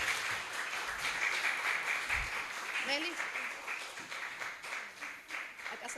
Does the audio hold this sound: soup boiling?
no